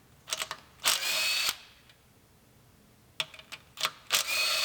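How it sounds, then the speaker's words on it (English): A power drill whirs in short bursts while unbolting the inspection cover under a car near the torque converter: two quick pulses and a longer run, a pause, then a cluster of spurts and another sustained spin, loud and close. "Now we can unbolt the inspection cover underneath"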